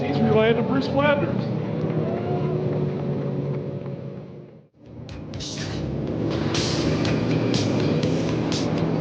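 Dwarf race car engines roar past on a dirt oval at a Perris, California stock car event, a steady loud rumble that dips briefly then swells again, with an announcer talking over it.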